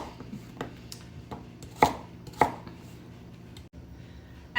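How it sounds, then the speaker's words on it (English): A knife chops through sweet potatoes on a cutting board in a few sharp, distinct strikes, two louder cuts standing out over a quiet kitchen background, with no talking. "cut them into, smaller pieces"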